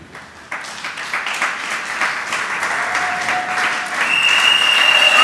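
A church congregation applauds in dense, steady clapping that grows louder over several seconds, with a few faint tonal cries rising above it.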